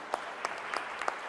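Audience at an endowment lecture clapping, heard as a handful of sparse, separate claps spaced roughly evenly over a moment, fairly distant and soft.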